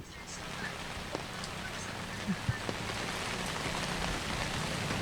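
Steady heavy rain pours down during a storm in Eastern Samar, a dense unbroken hiss on surfaces with a few faint knocks, no voices.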